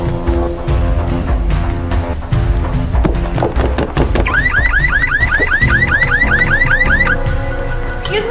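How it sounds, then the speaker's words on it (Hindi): Car alarm on a green Volkswagen blaring loudly and close, cycling through a repeating electronic pattern that shifts into rapid rising-and-falling whoops partway through, with some thuds mixed in. "वो गाड़ी का अलार्म बज रहा है।"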